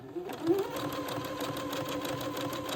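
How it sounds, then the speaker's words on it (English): A sewing machine runs steadily while zigzag stitching the headers of two pieces of lace together for a child's frock, a soft continuous rapid whirr heard close and alone. "just zigzag the headers of those two pieces of lace together"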